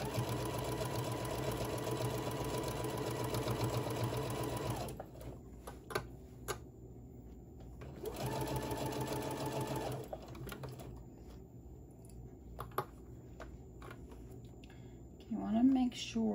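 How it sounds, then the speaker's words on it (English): A sewing machine stitches around the top of a fabric Santa bag in two rapid, steady runs of close mechanical clatter, separated by a quiet pause with small clicks and fabric handling. A voice is briefly heard near the end. "I'm gonna sew all the way around the top, joining these together, leaving that little opening so we'll be able to put a drawstring"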